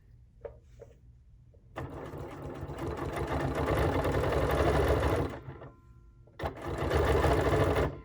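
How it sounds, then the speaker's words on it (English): Sewing machine free-motion quilting a circle with a ruler on a mug pincushion, running steadily in a long close whirring stretch of about three and a half seconds, a short pause, then another fast burst. "now I'm gonna closely hold this and guide my machine around the"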